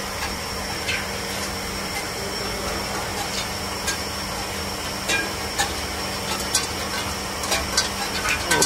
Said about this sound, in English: Ice will come out from this machine very soon.